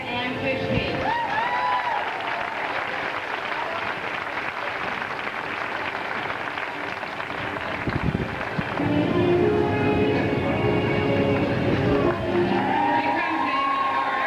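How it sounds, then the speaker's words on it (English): A large crowd on a Caribbean cruise applauds and cheers steadily, a dense wash of clapping with scattered whoops that swells louder toward the end. "we want to recognize her with a big round of applause from Saginaw, Michigan, Unit Leader Ann Fish"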